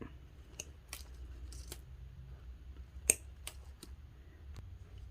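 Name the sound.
cutting artificial flower stems short for mini bouquets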